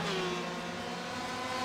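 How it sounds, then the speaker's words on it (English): Porsche GTE race cars drive at Road America in an Aussie Mixed & Fixed GT Development Series race, their engines a steady, close, high-pitched drone that holds for a moment without any voices. "Look at the 2 Porsches here up ahead."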